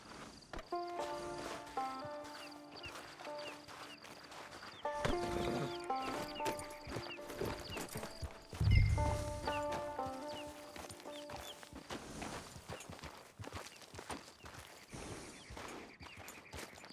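Horse hooves clip-clopping at a steady walking rhythm in Red Dead Online, close and continuous over game music and ambient sounds, with a louder thump partway through.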